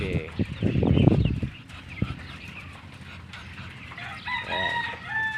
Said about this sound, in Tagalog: Ayan, mga kalapate. Ayan, yung mga manok,